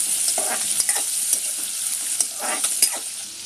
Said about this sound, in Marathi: ही मुळ्यांची मास्टर आता आपल्याला 2 मिनिटं परतून घ्यायची आहे।